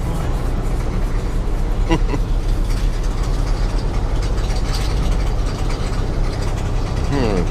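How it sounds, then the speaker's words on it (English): Loud, steady rumbling road and engine noise from a truck driving with its window rolled down, with rattling and clanking mechanical sounds throughout and no talking. "The truck makes so much noise."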